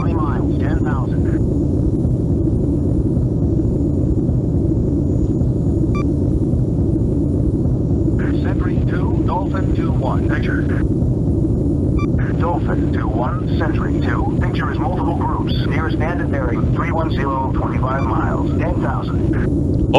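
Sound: Tornado jet aircraft flying in video game Falcon 4 Allied Force

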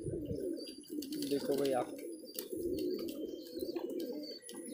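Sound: pigeon cooing

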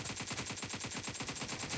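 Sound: gunfire in PUBG Mobile video game team deathmatch

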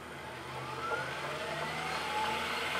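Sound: Tesla electric motor spinning forward on a test stand

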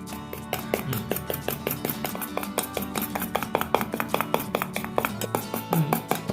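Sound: whisking cake batter with sugar

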